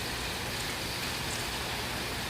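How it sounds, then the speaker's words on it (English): Heavy rain from Hurricane Dorian in Orlando pours down as a dense, loud, steady hiss that fills the whole stretch without a break. "This is just like a lot of rain"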